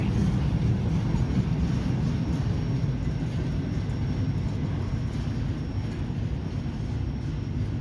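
Rumbling low roar of a very long freight train rolling past as its final car goes by, a steady heavy wheel-and-rail drone heard outdoors with a faint high whine above.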